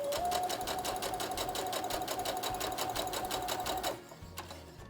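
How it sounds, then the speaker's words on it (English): A sewing machine runs steadily while stitching fabric for a dog dress, a fast, even mechanical whir that stops abruptly near the end and leaves quiet room sound. "So let's go over to the sewing machine and do that."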